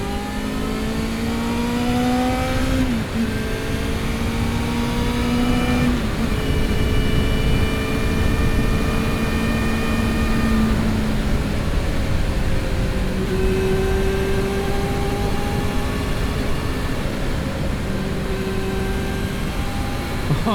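A Yamaha FZR400 EXUP motorcycle accelerating on an open road with a loud, continuous inline-four engine whine that climbs steadily in pitch through each gear, then drops sharply at every shift, over heavy wind rush.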